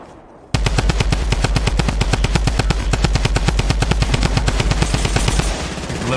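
A minigun fires in the video game Fortnite, a loud rapid stream of evenly spaced shots that runs continuously for about five seconds after a short quiet start.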